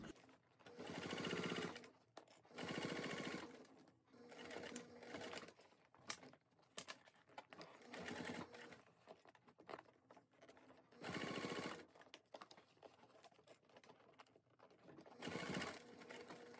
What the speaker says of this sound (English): So I'm gonna stitch it from this side up.